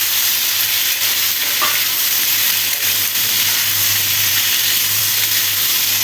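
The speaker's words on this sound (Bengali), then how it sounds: "দিয়ে ভালো করে আলুটা ভেজে নেব।" Potatoes frying in a pan with a spoonful of salt after the spices are tempered in hot oil, a loud, continuous, close sizzle and hiss that barely changes, with a brief scrape of stirring.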